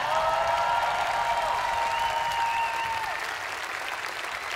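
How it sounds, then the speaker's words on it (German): Sustained applause from a concert audience, honoring the crew at a show with a big band, loud and steady throughout with crowd noise and whistles on top. "Für die ganze Crew hier einen fetten Applaus bitte."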